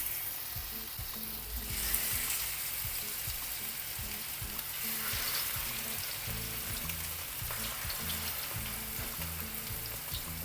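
Masala-marinated fish frying in hot oil: a dense, continuous crackling sizzle with rapid popping bursts, close and steady throughout with no talking.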